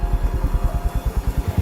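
A motorcycle engine being started, sputtering in a quick, even train of low thumping pulses close by, with no talk over it.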